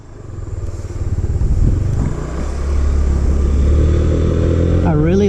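A Yamaha C3 scooter engine running steadily nearby, a loud low drone that builds and holds, with a voice talking over it.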